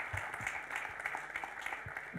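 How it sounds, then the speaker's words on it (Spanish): An audience applauds at a municipal panel discussion, a steady and moderately loud wash of clapping that holds evenly from start to finish. "Hoy le damos un gran aplauso a Erika y a Pablo por su gentileza de habernos acompañado el día de hoy."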